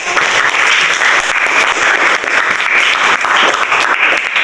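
Students in a classroom clap loudly and continuously after a correct answer, a close, dense burst of applause holding steady throughout.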